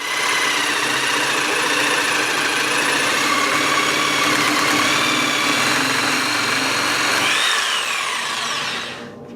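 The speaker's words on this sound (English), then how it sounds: "I'm going to be using a jigsaw. I've got a metal blade and I'm also going to be putting on some lubricant." A jigsaw fitted with a metal blade and lubricated, cutting a steel hitch safety chain bracket; a loud, close, steady buzzing whine with shifting metallic tones that runs throughout and winds down at the end.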